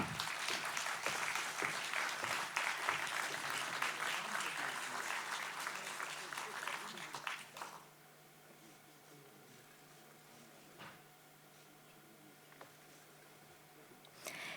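Big applause for award winners at a regional awards ceremony, a burst of dense hall clapping lasting about eight seconds before fading to a quiet room with faint rustles.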